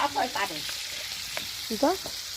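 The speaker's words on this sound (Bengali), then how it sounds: "আলুটা ভেজে নিচ্ছে প্রথমে" Potatoes fry in a pan over a wood fire at an outdoor winter picnic, a steady crackling sizzle running underneath short bursts of nearby voices.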